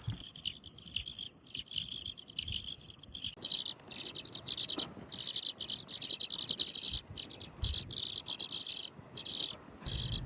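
Small birds chirp in quick, high twittering bursts, close and lively, over a steady outdoor insect buzz with crickets trilling throughout and no voices.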